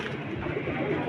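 Close, continuous cooing from giribaz high-flyer pigeons kept for sale, a soft low throaty murmur filling the whole moment.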